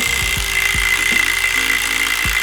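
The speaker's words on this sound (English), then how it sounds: "But because I have an impact gun, should be fine. I'm just gonna blast this off" An impact gun hammers at the hub nut of a Classic Mini, a loud continuous rattling burr with rapid repeated blows, close and alone throughout.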